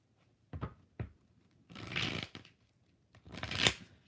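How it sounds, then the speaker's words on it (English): Tarot cards are shuffled in several separate bursts of riffling and sliding, quiet and close, with short pauses between them and no talking. "2 more shuffles. I want to make sure it's shuffled."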